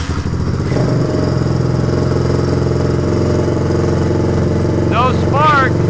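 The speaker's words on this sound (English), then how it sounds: "Wow, it almost started right there." A car engine cranks and nearly catches, a steady loud rhythmic churning with uneven chugging that never settles into a run, while a voice speaks briefly near the end.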